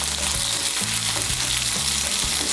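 Chopped capsicum stirred into hot oil in a pan, a loud, close sizzle with repeated scraping strokes of a spoon setting a steady rhythm, no voices.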